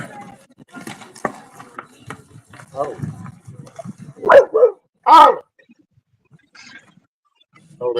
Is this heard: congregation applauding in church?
no